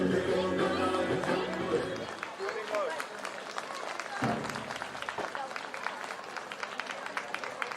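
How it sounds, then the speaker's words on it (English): Applause rises from the audience at a school annual concert, loud and sustained across the hall, with scattered individual claps standing out. Music plays under the first two seconds, and a voice carries over the clapping. "Audience, please give a huge round of applause for him"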